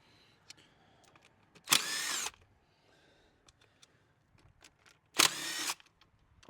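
Two short, loud bursts of a power tool such as an impact driver spinning out 8mm bolts on a 6.7 Cummins truck during spring maintenance, separated by quiet pauses with faint clicks and handling noises.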